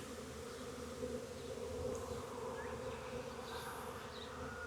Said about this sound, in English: there's quite a few bees coming back over here